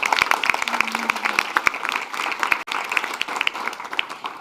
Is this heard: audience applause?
yes